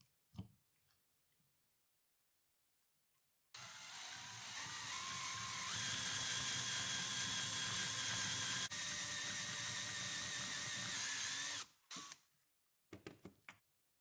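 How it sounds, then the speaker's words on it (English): A power drill with a 7/64 bit whines loudly and continuously for about eight seconds, drilling out a metal rivet on a jump rope handle, with faint clicks and handling noises before and after. "I'm using a 7/64 drill bit for this."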